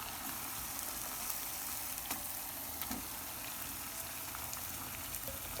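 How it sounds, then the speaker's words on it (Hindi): Chicken with garlic ginger paste fries in a pan, giving a steady, soft sizzle with faint crackles and pops throughout, and no talk. "इसको हम मज़ीद 2 से 3 मिनट फ्राई करेंगे चिकन को"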